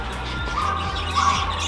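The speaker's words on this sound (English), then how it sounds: "They're so chirpy. Look at these ones, they're all red beaks." Zebra finches in a pet store cage: a couple of short, squeaky chirps over a steady background of store hum, fairly faint.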